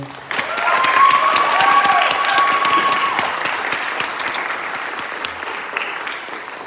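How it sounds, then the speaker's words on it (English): At a college Christmas convocation, an audience gives a director warm, steady applause with a few cheers. The clapping starts abruptly and slowly fades over several seconds. "please give a round of applause to Tom Clark for directing"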